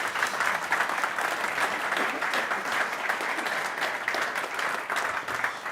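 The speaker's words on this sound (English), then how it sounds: "give her a warm applause" Steady, sustained applause from a meetup audience at a last-mile delivery event, even and moderately loud throughout with no talk over it.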